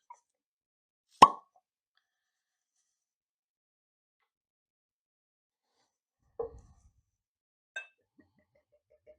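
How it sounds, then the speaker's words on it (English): Cork drawn from a bottle of Bruichladdich The Laddie Eight single malt whisky, one crisp, sharp pop in a quiet room, followed later by a couple of faint clinks and small handling sounds. "And have a little listen to the cork."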